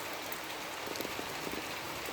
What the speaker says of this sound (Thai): โอ้ฝนตกตามคัน